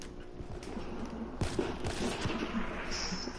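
Gunfire in the shooter game Call of Duty: Black Ops III, a sharp shot standing out around the middle against a steady background of game ambience and a few smaller pops.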